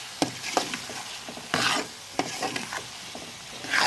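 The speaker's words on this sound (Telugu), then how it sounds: "ఇవన్నీ కలిసేలా అన్నీ కలుపుకున్నాం చక్కగా" Drumstick curry with onions, tomatoes and chilli powder being stirred in a pan: several distinct scraping strokes of a spoon with a light sizzle underneath, close and fairly loud, no talking.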